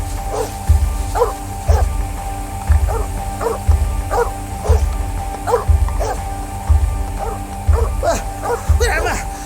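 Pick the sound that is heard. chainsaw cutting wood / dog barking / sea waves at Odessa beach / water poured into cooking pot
dog barking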